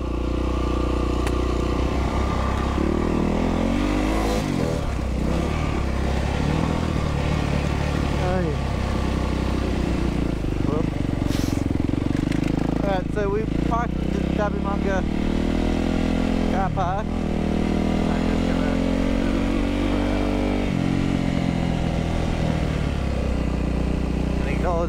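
Yamaha WR450F dirt bike engine running loud and steady throughout a trail ride, with a rising and falling pitch as the rider revs and shifts, and a voice talking over it at times.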